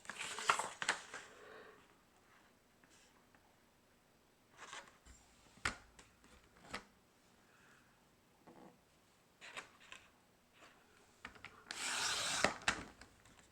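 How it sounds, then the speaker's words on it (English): Grid paper being cut on a cutting grid: quiet, close scrapes and rubs with a few sharp ticks, then a louder brisk slicing swish near the end, faint overall with no voices. "Cutting grid paper on a grid."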